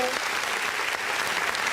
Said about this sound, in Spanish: Dice, me mandan unos aplausos.